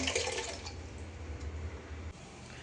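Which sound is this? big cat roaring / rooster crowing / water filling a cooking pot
water filling a cooking pot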